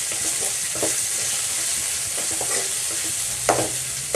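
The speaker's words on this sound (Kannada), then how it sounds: "ಶುಂಠಿ ಬೆಳ್ಳುಳ್ಳಿ ಪೇಸ್ಟ್ 1 ಸ್ಪೂನ್. ಇದನ್ನು ಹಾಕ್ಕೊಂಡು ಸ್ವಲ್ಪ ಫ್ರೈ ಮಾಡ್ಕೊಳ್ಳೋಣ." Ginger garlic paste frying in a pan for mushroom gravy, a continuous close sizzle with spoon scrapes and stirring knocks at irregular intervals, loudest near the end; no talking.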